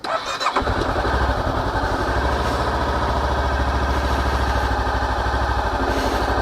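A motorcycle engine starts with a brief crank, then settles into a steady, close, loud idle rumble that runs on without any voices.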